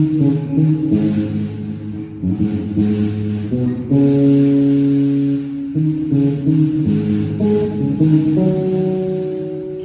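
Guitar part played alongside a bass line, sustained melodic notes changing every second or two over a steady low bass, loud and continuous throughout.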